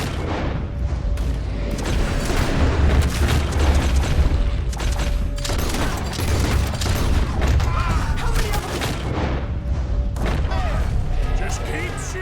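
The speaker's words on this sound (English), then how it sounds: "Just keep shooting till nothing moves" Dense, continuous gunfire and booming shots from a Red Dead Redemption 2 shootout, loud and sustained throughout with overlapping blasts, partly under a voice.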